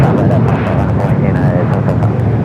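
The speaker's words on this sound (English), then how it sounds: "Next takeoff here on the south side, United" A United Boeing 757 takes off from the south side at LAX, its loud, steady jet roar filling the whole stretch without letting up.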